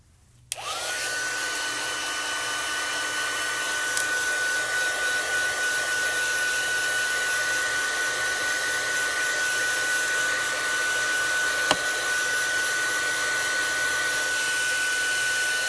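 Heat tool drying a stamped card, switching on with a click and then blowing a steady, close, even whoosh without pause.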